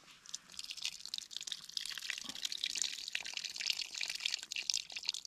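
Water trickles and splashes in a thin, fluttering stream, faint and close, as if poured out slowly for several seconds.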